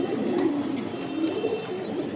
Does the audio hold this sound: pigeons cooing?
yes